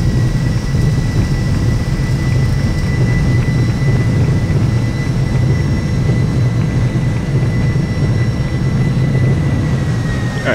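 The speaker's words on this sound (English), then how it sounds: "Get the reversers engaged." Simulated Boeing 757-200 thrust reversers roaring after touchdown at LAX in X-Plane 11, a loud steady low rumble of jet engine noise that holds without a break throughout.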